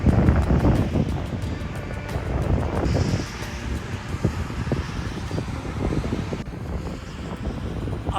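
Strong gusty wind buffets the microphone during a walk through a park on a very windy day, a steady loud roar with swelling gusts throughout and no talk.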